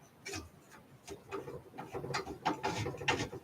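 Small screws being driven into a 386 DX 40 PC case during a re-case build, giving close, repeated ratcheting clicks and scraping metal turns in an irregular rhythm, with no voices.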